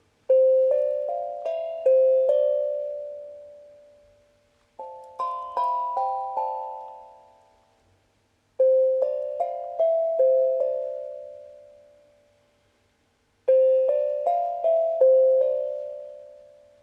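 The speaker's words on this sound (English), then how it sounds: "This is the sound of the tongue drum." A tongue drum plays slow phrases of four or five soft, ringing metallic notes, each group left to decay into near silence before the next, close and calm with no voices.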